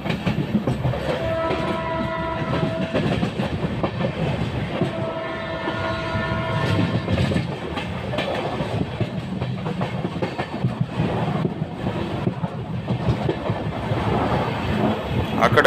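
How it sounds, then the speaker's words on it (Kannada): A passenger train on the Bengaluru–Tirupati route speeds through Chittoor station, giving a steady loud rumble and wheel clatter, broken by two long horn blasts near the start. "ಈ ಚಿತ್ತೂರನ್ನ ಸರಿಯಾಗಿ ಸ್ಕಿಪ್ ಮಾಡ್ತಿದೆ ನಮ್ಮ ಟ್ರೈನು, ಒಳ್ಳೆ ಸ್ಪೀಡಲ್ಲಿ ಸ್ಕಿಪ್ ಮಾಡ್ತಿದ್ದಾನೆ"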